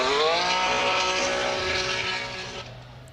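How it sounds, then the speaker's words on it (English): A Ferrari 599 GTB's twin-supercharged V12 wails loud and close in a long high-revving pass toward a race finish line, its rising harmonic exhaust note fading slightly as it pulls away. "Very exotic exhaust note now, bringing into that final finish line"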